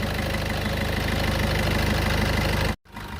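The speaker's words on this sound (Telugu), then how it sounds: "ఇంజిన్ సౌండ్ కూడా చాలా నీట్గా ఉంది" A Maruti Suzuki Brezza diesel car engine idles steadily with a low, even diesel rumble and regular knocking pulse, then cuts briefly before resuming near the end.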